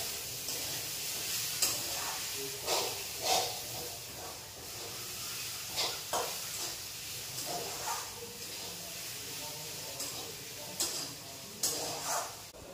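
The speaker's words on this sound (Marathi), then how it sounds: "त्यानंतर पाहू शकता इकडे कांदा पण आपला परतलाय चांगला" Onion frying in oil in a pan at home, with a steady soft sizzle and hiss broken by scraping stirs every second or two, heard close.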